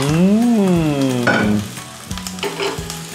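Vegetarian dish sizzling and frying in a pan as red beans are stirred in, a steady close crackle with scraping stir strokes, opening under brief tonal, music-like sounds.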